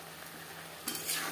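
Green jackfruit and potato cook in a pan for a prawn dish, giving a brief, soft sizzle with a stirring scrape swelling near the end.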